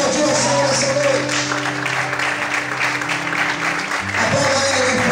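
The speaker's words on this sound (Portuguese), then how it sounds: "Quantos podem aplaudir ao Senhor nessa noite?" Church congregation applauding during an evening service, a broad wash of steady clapping that fills the room, with sustained organ or keyboard tones underneath throughout.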